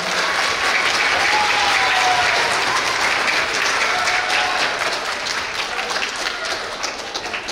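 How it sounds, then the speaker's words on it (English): A school audience gives a loud, sustained round of applause for fifth and sixth graders named students of the month, dense clapping that slowly tapers toward the end. "Let's give our 5th and 6th graders a round of applause."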